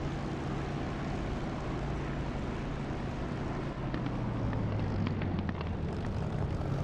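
A simulated aircraft engine in the DCS flight game roars steadily and loudly as the throttle is pushed up for takeoff, with a broad continuous rumble and a slowly shifting engine tone.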